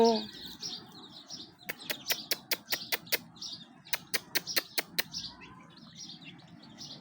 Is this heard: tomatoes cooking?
no